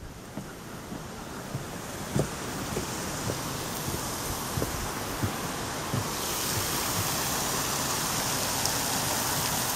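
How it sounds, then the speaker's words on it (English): Continuous rushing water from small waterfalls at Iargo Springs splashes and roars close by, a steady broad wash with faint thumps and wind buffeting, no voices. "Actually, creates some more tiny waterfalls."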